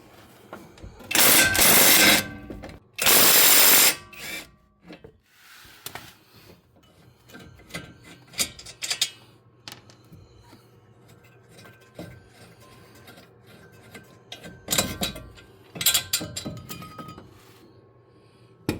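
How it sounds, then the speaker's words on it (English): Tools work two bolts loose from a car's brake rotor: two loud bursts of power-tool whirring up front, then scattered clinks and ratcheting, with another short loud burst near the end. "All right, let's get those two bolts out of there."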